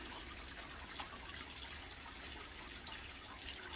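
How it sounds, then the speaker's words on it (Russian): Meltwater from thawing snow runs and drips off a garage roof, a faint steady trickle with a few bright chirps near the start, distant and low in level, with no talk. "Вот сейчас вот все течет, снег тает"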